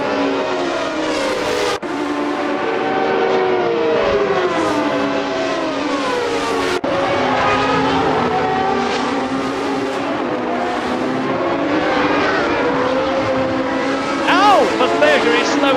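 A Ferrari Formula 1 car from the 1989 season screams through a tight hairpin in a racing video game, its high-pitched engine note sweeping down and back up, with another car audible nearby and a commentator talking over it throughout.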